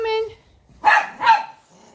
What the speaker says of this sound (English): And here's our puppies.